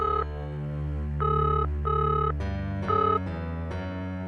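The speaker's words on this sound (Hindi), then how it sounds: "कनन, तुम्हारा फोन है" A telephone rings loudly in repeated electronic bursts over a steady low hum, with short gaps between rings.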